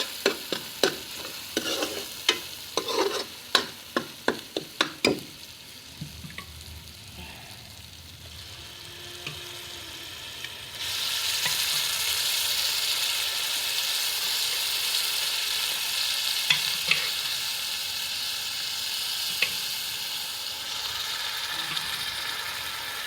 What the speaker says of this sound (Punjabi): ਦੇਖੋ ਤੜਕਾ